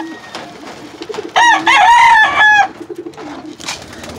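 A rooster gives a loud, drawn-out crowing call at close range, with softer clucks and rustling around it.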